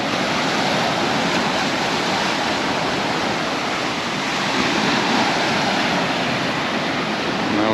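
Waves washing onto the beach at Portals Nous, Mallorca, a steady, even roar of surf that fills the background without a break and no voices.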